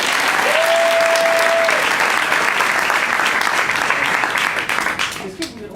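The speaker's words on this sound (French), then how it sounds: "On peut l'applaudir pour ça, il a fait." An audience at a card magic show breaks into loud, sustained applause that fills the room for several seconds and thins out toward the end. A single tonal whistle rises briefly early on.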